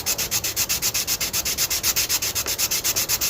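Hand sanding a trunk jamb part on a 1991 Honda CRX with a K20Z3 swap, the sandpaper rasping in a steady rapid back-and-forth rhythm of about six strokes per second, close and continuous with no talk.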